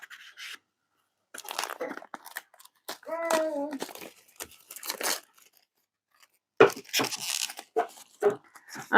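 A wrapped parcel box from an online cosmetics order is opened, with intermittent crinkling, rustling and tearing of packaging, close by, separated by brief pauses, and a short voiced sound partway through.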